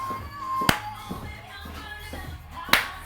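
Sharp single hand claps ring out twice, a few seconds apart, during a cardio dance workout, loud and crisp over soft background music and faint footsteps.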